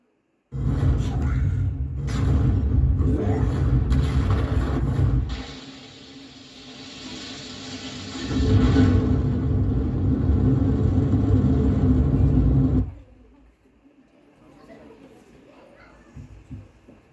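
Deep, loud rocket launch rumble from an Indian space mission, roaring in two long swells, the first about five seconds and the second about four, before dropping off to a faint tail.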